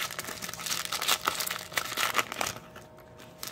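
A Panini Prizm baseball card pack wrapper crinkles and tears open up close, quick bursts of plastic rustling that fade near the end.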